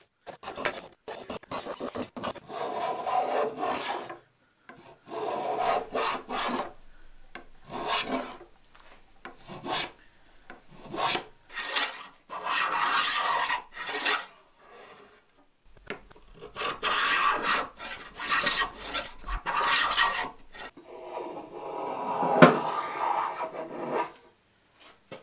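A rasp scrapes wood in repeated bursts while shaping a wooden katana blade, each stroke a rough, gritty rubbing with short pauses between passes, close and fairly loud.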